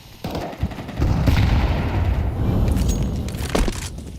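Pistol gunfire in a Counter-Strike match at a pro tournament, with sharp shots and then a dense, loud, sustained burst of overlapping game sounds.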